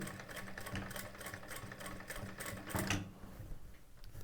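A sewing machine hums steadily as it stitches a blouse, its motor whirring continuously with a rhythmic needle chatter and a brief louder surge near the end.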